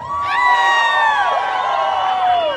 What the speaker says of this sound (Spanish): ¿quieres escuchar un grito de los borrachos?